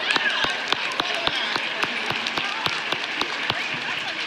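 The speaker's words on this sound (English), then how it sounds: "All right, everybody give yourselves another round of applause." An audience in a workshop gives a round of applause, dense continuous clapping with crisp individual hand claps on top, close and steady throughout.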